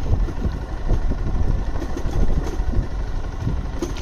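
Motorcycle engine running steadily on a wet road, a continuous low rumble with uneven throttle pulses throughout, fairly close and alone with no talk.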